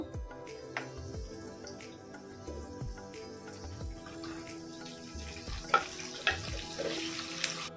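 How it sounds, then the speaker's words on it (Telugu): Peanuts, urad dal and chana dal frying in hot oil give a steady soft sizzle with faint crackles, plus occasional low bumps and a few sharper clinks near the end; no one speaks. "అవి ఫ్రై అయిన తర్వాత కొంచెం మినపప్పు, శనగపప్పు ఇవి కూడా వేసి ఫ్రై చేస్తున్నాను"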